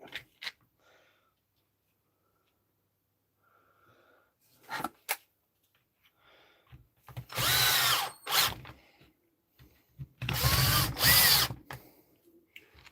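A power drill drives screws during a workshop repair in two loud, sustained whirring bursts of a second or two each, with quieter taps and handling noises in the gaps.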